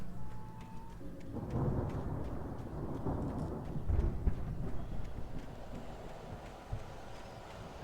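A thunderstorm rages in the Alan Wake video game, with steady rain, wind and a low rolling rumble of thunder filling the scene, loud and continuous throughout.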